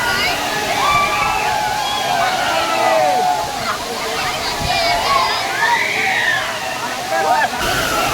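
Gandahati waterfalls in Odisha make a continuous rushing roar of falling water close by, while people talk loudly over the steady wash the whole time.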